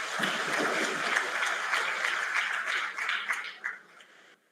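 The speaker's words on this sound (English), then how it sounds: "For them, round of applause once again. Please, round of applause." A crowd at a university BTech orientation programme applauds steadily for several seconds, a dense patter of clapping that thins out into a few scattered claps before stopping.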